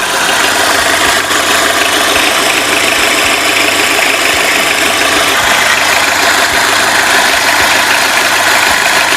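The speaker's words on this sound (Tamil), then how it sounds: "இப்போ இன்ஜினை வந்து ஸ்டார்ட் பண்ணி காட்டுறேன்" A used car's engine runs at a steady idle after being started at a used car dealership. The loud, continuous rumble is close up, with faint knocking pulses and no talking.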